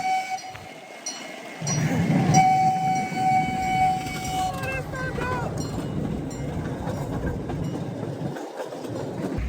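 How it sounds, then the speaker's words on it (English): A train passes along railway tracks, with a long horn blast and rumbling, clattering wheels close by, steady and loud throughout. "y'all about to see the train"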